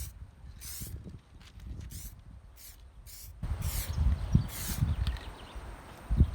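Light dusting passes of clear coat sprayed onto a car panel from about 25 cm away, heard as several short, fairly faint hissing bursts with soft handling noises and low rumble underneath.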